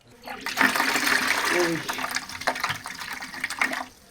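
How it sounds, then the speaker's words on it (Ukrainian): Water gushes and splashes as it drains from a pipe that fed a removed gas meter in an apartment building, a steady loud pour lasting a few seconds. "Тут теж демонтували газовий лічильник і зливають воду із труби, яка до нього підведена."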